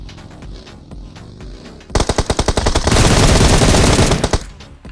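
Gunfire in BGMI PUBG Mobile, a burst of rapid loud shots around midway giving way to a dense, sustained automatic volley, with quieter scattered shots before and after.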